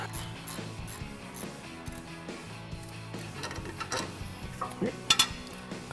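A bolt on a 2014-2018 Silverado brake caliper bracket being backed out with an adjustable wrench and ratchet, heard as quiet metallic clicks and clinks, close, with a few sharper knocks near the end.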